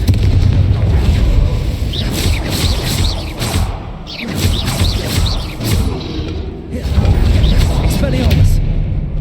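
Confringo blasting spell explosions in the video game Hogwarts Legacy, loud and continuous with repeated booms and mechanical clatter layered over dense combat noise and a spoken voice.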